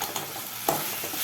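Dried fish frying in a pan, given a quick stir: soft sizzle with a couple of brief scraping strokes of the spoon, close and short.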